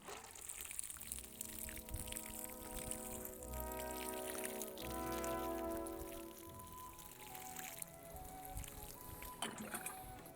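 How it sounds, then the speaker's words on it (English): Water pours and trickles steadily into soil around a newly planted plant, a faint continuous splashing that lasts the whole stretch, with soft tonal sounds underneath. "Now we just water him in."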